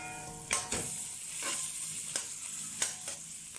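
Food is stirred in a sizzling pan, quiet steady frying broken by about five sharp scrapes of a utensil against the pan; no talking.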